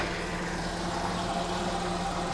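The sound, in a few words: Jaguar XJC engine idling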